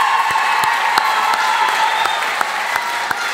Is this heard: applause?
yes